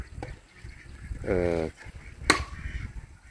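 A single nasal honk from a duck in a duck coop stands out against a noisy outdoor background, with a sharp click shortly after and faint voices.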